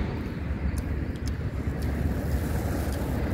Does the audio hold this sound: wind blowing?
yes